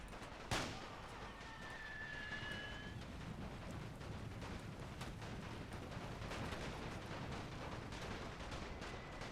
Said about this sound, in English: over here my machine gun is firing at their Imperial Guard